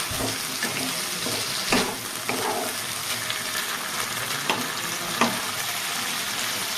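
Potatoes sautéing with a ground paste of ginger, garlic and cumin, a moderate continuous sizzle broken by several sharp scrapes and clacks of a spatula against the pan, no talking.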